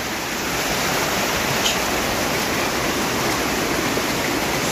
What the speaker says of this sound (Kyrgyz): Сууну кечип жүрөбүз.